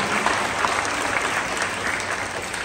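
An audience at a school band concert claps, a steady, full round of applause heard at a constant level from start to finish.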